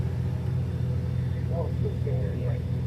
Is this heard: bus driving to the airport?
yes